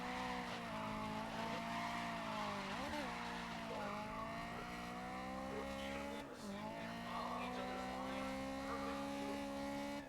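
Race car lapping a circuit in GRID, a loud steady engine whine with gear shifts changing its pitch and tires squealing through the corners, heard close for the whole stretch.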